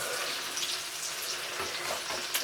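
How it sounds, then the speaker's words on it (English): Onions fry in olive oil, giving a soft, continuous sizzle and crackle that stays faint and steady for a couple of seconds. "I'm frying my onions in olive oil."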